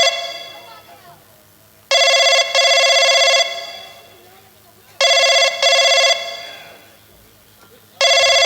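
An old-style telephone bell rings in three loud, close bursts, each a rapid double trill separated by pauses, during a Hindi nautanki comedy performance.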